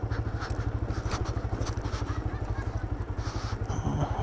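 A lightweight motorcycle running with a loud, fast, pulsing engine putter throughout, close by, with faint background sounds and no clear talking.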